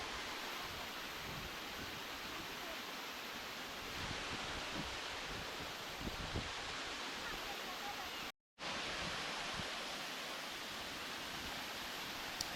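A small waterfall at Thaiyur Falls near Chennai pours in a dense, steady roar with no pauses except a brief cut near the end.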